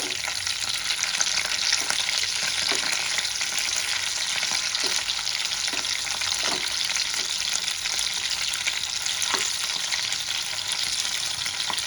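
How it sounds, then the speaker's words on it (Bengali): Fish fries in a hot pan with oil, a loud steady sizzle and crackle carrying on without pause, close up and with no talking. "এই পিঠটা আমি লাল করে ভেজে নেব।"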